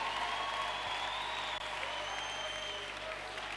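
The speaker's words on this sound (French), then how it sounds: "Applaudissez-moi le Seigneur encore une fois." A church congregation applauds in a continuous, fairly even wash of clapping with a sustained tonal hum or organ note underneath, steady throughout with little variation.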